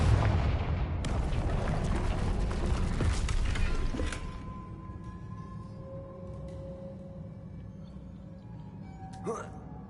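A Confringo fire spell in Hogwarts Legacy bursts in a loud, rumbling fiery blast that roars for several seconds and then fades into a crackling tail, with a voice speaking over it.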